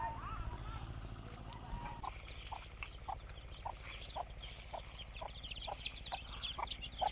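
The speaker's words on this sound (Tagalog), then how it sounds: "Yan yung manok ni Kendrick. May rami siyang sisiw" A hen with many chicks clucks in a steady string of short calls nearby, with faint speech and low background noise underneath.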